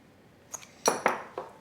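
A whisk clinks against a bowl while mixing flour, baking powder and salt, a few sharp close metallic taps in quick succession after a brief quiet start.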